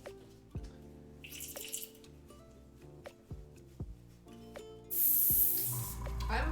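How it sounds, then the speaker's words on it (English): An airbrush being cleaned out with thinner in a garage kit painting setup gives a sharp, close hissing spray burst near the end, after quiet clicks and taps, with faint background music. "So let me clean out my brush real quick. Yeah, airbrush."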